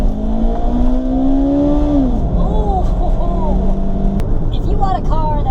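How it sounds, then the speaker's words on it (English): A 2002 Toyota Celica GTS with automatic transmission revs up, its engine pitch climbing steadily, then drops and revs again in short rises, loud and close. "Want a car that's got an engine that sounds like a motorcycle, this is the car for you."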